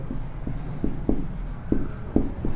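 Pen or marker scratching out a linear equation by hand, with short, irregular strokes and taps that sound close and clear over a quiet room.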